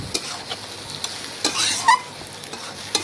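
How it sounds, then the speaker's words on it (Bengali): Mutton and pre-fried potatoes are stirred together in a pot, giving a soft frying sizzle broken by several sharp spoon-on-metal scrapes and clinks at an uneven rhythm. "মটনের সাথে আলুগুলো মিশিয়ে নিচ্ছি।"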